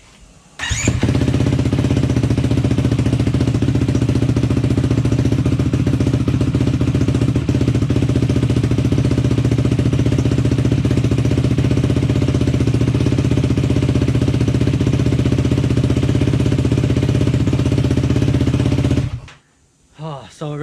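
A Yamaha YFZ450R ATV engine fires for the first time through a worn-out exhaust with its packing gone, roaring loud and raspy at a steady idle close by for about twenty seconds before cutting off abruptly.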